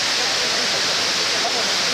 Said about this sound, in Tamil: குற்றாலம் மெயின் ஃபால்ஸ் மெயின் அருவியில்